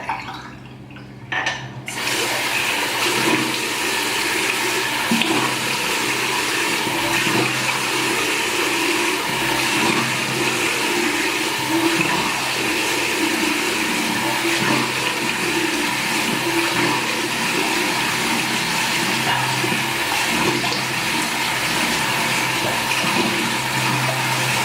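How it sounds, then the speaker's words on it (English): Water running steadily from a tap while someone washes their face after shaving, a continuous close hiss that begins after a brief quiet moment and lasts to the end. "just going to wash up."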